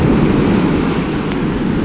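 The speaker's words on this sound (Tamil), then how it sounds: "ஆ அலை வேறு பெருசாக வருது" Steady roar of ocean surf at Bondi Beach, Sydney, with continuous wash of large breaking waves and some wind rumble, no voices.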